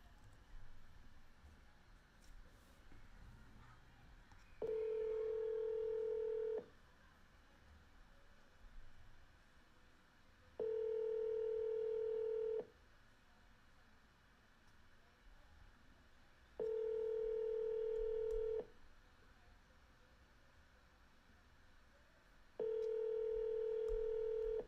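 A phone call to a mobile number rings out with four long, steady ringback tones spaced about six seconds apart over a faint background hiss.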